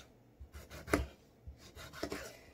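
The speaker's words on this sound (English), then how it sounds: "we're gonna go and cut our tomato in strips" A knife cuts a tomato into strips on a board, giving several separate soft chopping taps at an uneven pace, close and fairly quiet.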